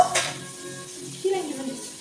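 Chicken pieces with green chillies sizzle quietly in a pan as they fry. A faint clatter from stirring starts it off, and a soft crackle continues underneath.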